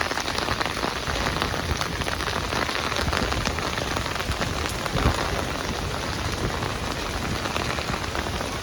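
Steady, fairly heavy rain patters continuously on surfaces, an even wash of drops with no voices over it.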